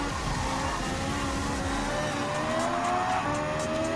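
A Subaru BRZ GT300 race car in the video game Gran Turismo 7 gives a loud, steady engine drone with a whining tone that rises gradually in pitch as it accelerates.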